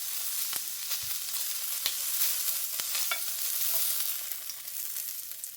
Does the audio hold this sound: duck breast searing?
yes